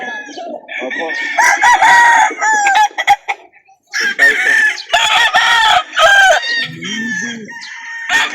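Loud, close rooster crowing repeats several times in drawn-out calls, with clucking hens between, one brief pause near the middle, at a chicken market in Calauan, Laguna, Philippines.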